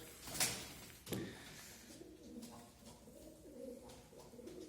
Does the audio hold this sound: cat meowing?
no